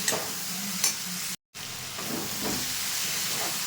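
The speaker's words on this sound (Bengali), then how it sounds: "ভেন্ডি ভাজাটা থেকে কিন্তু তেল ছেড়ে দিয়েছে, অনেকটাই ভাজা হয়ে গেছে" Okra (bhindi) fries in oil in a pan with a close, steady sizzling hiss and a few soft stirring scrapes, briefly cut out by a short gap before the frying sound resumes.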